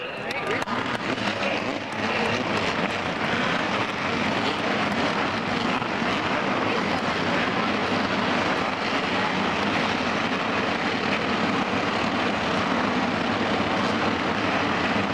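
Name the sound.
race car engines starting at Daytona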